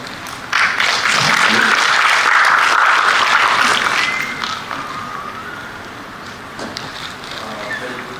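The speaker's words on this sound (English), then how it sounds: "Please have your applause." An audience at a university academic conference applauds loudly for about four seconds. The clapping then thins out to scattered claps and murmurs as a speaker steps up.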